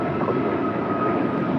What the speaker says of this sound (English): American Airlines flight 2883 headed to Miami at a 777-200ER. That's the next departure on 25 right.